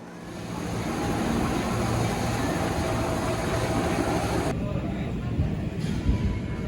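Loud, steady rumble of a passenger train arriving at a station in Indonesia, bound for Pasar Senen, with broad rushing noise and mechanical clatter filling the whole stretch, easing slightly near the end.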